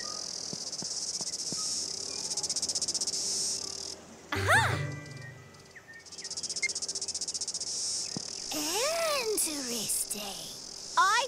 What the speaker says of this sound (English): DJ Cicada wants to be part of our band too